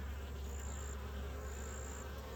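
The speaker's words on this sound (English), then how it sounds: "Now there's a fly trying to get in my ear." A fly buzzes close to the ear in a continuous, steady drone, near and fairly loud, outdoors by bees, with no talking.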